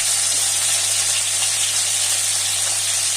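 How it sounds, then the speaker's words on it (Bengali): Pointed gourd pieces frying in hot oil with salt, a loud, steady, close sizzle with a constant hiss throughout. "লবণ আর হলুদ দিয়ে পটলটা ভালো করে ভেজে নিতে হবে, একটু লাল লাল করে"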